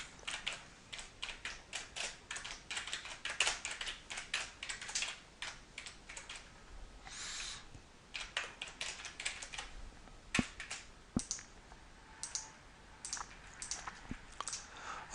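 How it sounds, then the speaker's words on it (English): Close, quiet typing on a computer keyboard, with bursts of rapid key clicks separated by short pauses and a few louder isolated keystrokes, and no one speaking. "I can start typing."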